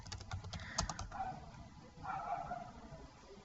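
Computer keyboard typing comes as a quick run of faint clicks, then trails off into quiet background hum with a brief muffled sound, fairly close and low in level.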